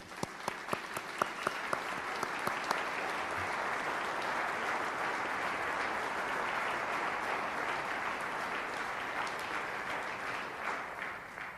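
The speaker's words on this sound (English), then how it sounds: "Let's go ahead and give them another round of applause" Audience applause at a military ceremony honoring the Old Guard, Army Band and flag bearers, beginning with a few distinct claps that swell into steady, even clapping from a large crowd, fairly distant and sustained.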